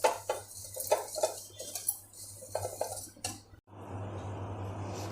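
A utensil stirs and taps against a bowl while mixing waffle batter, giving a series of close clinks and scrapes, followed by a softer steady whisking rustle.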